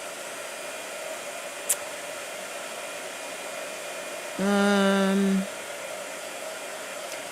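A blow dryer switches on for about a second with a loud, steady whir, then cuts off, amid a quiet room hum with a brief click earlier.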